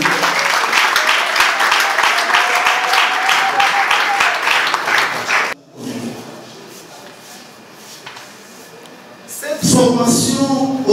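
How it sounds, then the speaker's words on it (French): Audience applause at a formal gathering, several seconds of dense rhythmic clapping that cuts off abruptly, followed by a quiet room and then a voice speaking. "Je vous prie d'applaudir très fort Madame Bey."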